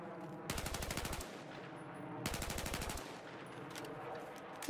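M4/M16A4 rifle bursts in Battlefield 4, two rapid rattling volleys of gunfire, each lasting under a second, separated by a short pause, sharp and fairly loud over quiet game ambience.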